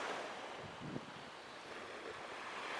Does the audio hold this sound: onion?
no